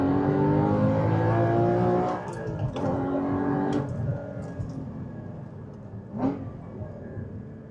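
Porsche 981 GT4 engine revving under way, a steady loud drone with harmonic sweeps as revs rise and drop through shifts, ending with a short sharp blip near the close.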